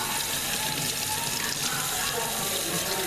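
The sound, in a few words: surgical instruments rinsed under running tap water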